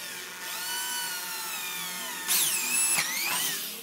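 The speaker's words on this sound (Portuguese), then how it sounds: "A broca de 8 milímetros, agora eu vou fazer o furo." An electric drill boring a hole through wood with an 8 mm bit, a steady high whine that rises in pitch and surges as the bit bites and breaks through, close up with no talk.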